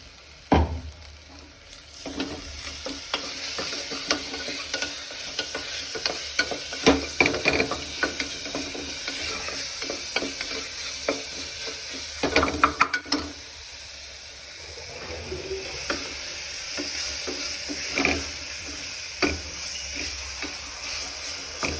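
Ground shallot paste sautéing in a pan for a soya chunk biryani, a soft continuous sizzle broken by clattering stirs and spoon scrapes, close by and without talk.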